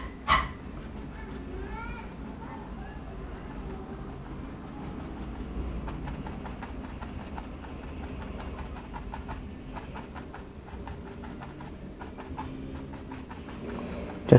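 Dogs bark and yip at low volume in the background of an indoor painting session, with a few faint whimpers, a steady low hum and a person talking under the sounds.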